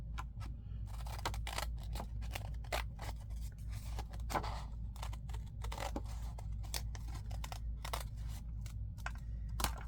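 Scissors snip through a paper journaling tag in a quiet craft setting, with a dense run of small sharp close cuts and rustles at low volume and no speech.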